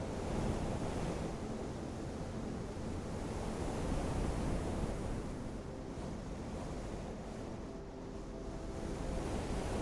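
Ocean waves roll onto a beach in a steady, wide wash of surf with gentle swells in loudness, mixed with soft breezy wind noise and no voices.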